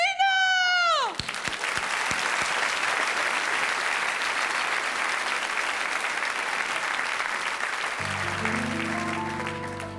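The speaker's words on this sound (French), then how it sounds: "je vous demande de l'applaudir très fort" A theatre audience at the Théâtre Marigny claps loudly and continuously after a descending musical flourish, a thick sustained ovation that fades slightly as a piano or band starts playing underneath.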